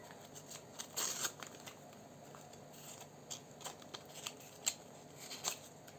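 Crinkly rustling and a few sharp crackles of paper being torn and handled, fairly quiet and close, with no talking.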